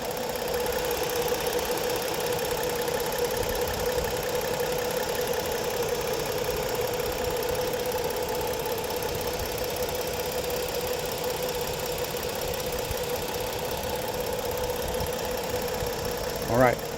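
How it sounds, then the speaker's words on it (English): A 2016 Ford Explorer Police Interceptor idles at a steady, even rumble nearby for about seventeen seconds, with no talk over it. "Let you actually get to hear the engine."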